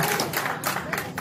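Wedding reception guests clap together in a short, dense burst of applause, steady and close throughout.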